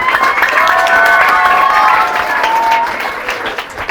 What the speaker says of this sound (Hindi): एक बार फाड़ू तालियां हो जाए।